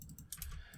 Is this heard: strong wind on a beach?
no